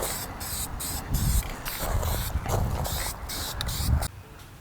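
Bursts of aerosol spray paint hiss in short, repeated passes onto an E36 sedan drift car, each spurt a few beats long with brief gaps between, close up and moderately loud.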